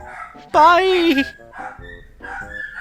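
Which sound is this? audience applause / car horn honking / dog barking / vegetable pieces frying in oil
dog barking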